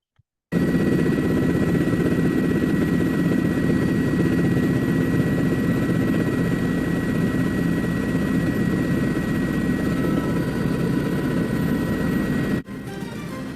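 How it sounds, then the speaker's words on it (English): A news helicopter hovers over Manhattan's Empire State Building, its rotor and engine making a loud, steady, close drone that continues without a break for most of the clip and then cuts off abruptly near the end. "Jim Smith is in Chopper 2 over the scene right now."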